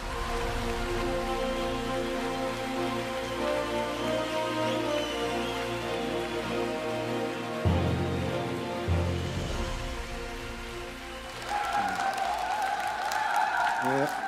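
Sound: audience applause welcoming a presenter

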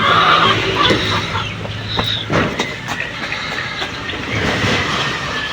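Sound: chicken

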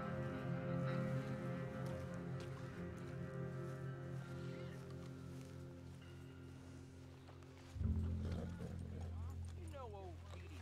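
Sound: horse walking, from a video game

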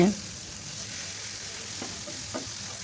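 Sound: stir-frying pumpkin curry with dried beef

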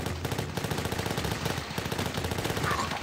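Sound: Uzi gunfire in video game The Last Stand 2

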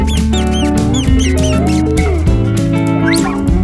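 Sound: hamster squeaking in a video game

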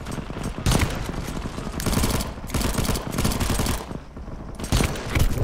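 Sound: rifle gunfire in zombie survival video game

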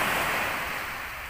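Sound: sea waves on a sandy beach at night

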